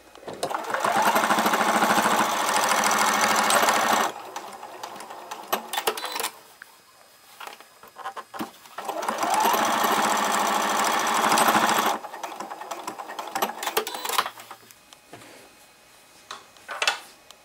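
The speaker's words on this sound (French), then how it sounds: "je vais venir refermer en cousant ensemble les 2 épaisseurs depuis l'extrémité jusqu'à ma marque à 5 cm" Sewing machine stitching two layers of cotton fabric together for a face mask, running in two loud sustained bursts of rapid whirring stitches separated by quieter pauses with small clicks and handling sounds.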